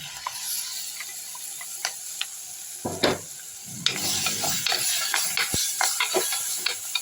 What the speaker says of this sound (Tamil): கொஞ்ச நேரம் பச்சை வாசனை போகிற அளவுக்கு நல்லா வதக்குங்க